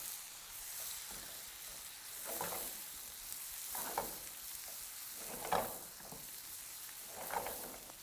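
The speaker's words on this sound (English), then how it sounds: "now we're going to add our small diced onions right into the pan" Diced onions fry in hot bacon grease in a pan over high heat, giving a steady sizzle with louder stirring scrapes roughly every one to two seconds and no voices.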